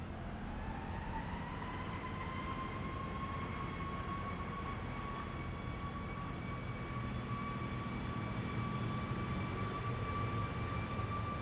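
A three-year-old Anadolu Jet airliner bound for Istanbul departs Amsterdam Schiphol Airport, its engines a steady, distant roar with a sustained rising whine throughout.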